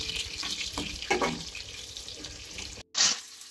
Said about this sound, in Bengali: একটু সাদা তেল আর ওর মধ্যে একটু ঘি মিশিয়ে সব সবজিগুলোকে একটু ভাজছি।